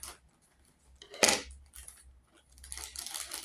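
Small scissors cut through package paper while opening a parcel, a few quiet snips with one sharp louder crunch, then soft rustling of paper, close and faint in a quiet room.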